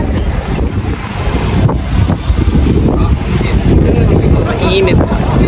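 Cool wind buffets the microphone outdoors at a food bazaar in front of the Chiang Kai-shek memorial in Taiwan, a loud, continuous rumbling gust with faint voices underneath.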